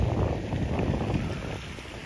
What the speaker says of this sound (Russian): Сыро, да, немножко ветер, но ветер приятный, теплый.